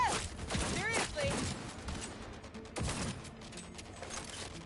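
Bursts of automatic gunfire in the Cyberpunk video game, clustered shots early and again a few seconds later, mid-distance and fairly loud, with voices talking over the firefight.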